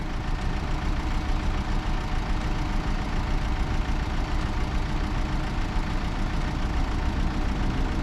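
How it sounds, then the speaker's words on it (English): A tow truck's heavy engine idles steadily with a low, constant rumble that stays even in loudness from start to finish. "Now the tow truck has arrived."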